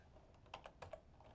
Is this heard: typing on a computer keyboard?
yes